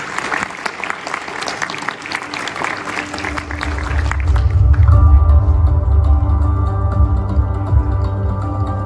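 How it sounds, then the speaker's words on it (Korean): Audience applause welcoming a company founder at a startup demo day in Seoul, a steady wash of many hands for several seconds before it gives way to low rumbling music with sustained tones. "이번에도 큰 박수로 환영해 주시면 고맙겠습니다."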